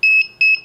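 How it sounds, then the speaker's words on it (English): Sharp, high-pitched electronic beeps from a KK2 multicopter controller's low-voltage alarm repeat rapidly in a steady pattern, loud and close with nothing else audible. "See how the beeping is faster now?"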